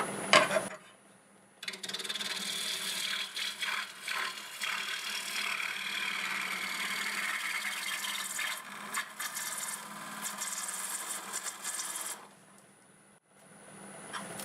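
A bowl gouge cuts into a spinning piece of wood on a lathe, a continuous rough, rasping shear that runs for about ten seconds after a brief pause and then drops away.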